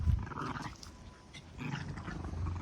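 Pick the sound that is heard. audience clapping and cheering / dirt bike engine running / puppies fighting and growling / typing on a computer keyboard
puppies fighting and growling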